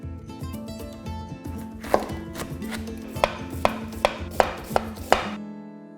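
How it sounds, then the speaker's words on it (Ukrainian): A knife chops rapidly through cabbage, shredding it on a board, with repeated crisp cuts and a few sharper, louder strikes near the end. "нашинкуємо капусту та обсмажимо її на олії"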